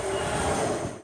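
A SMART diesel multiple unit train runs during testing on newly laid track in Sonoma County, giving a steady close rumble of wheels and engine that fades at the very end.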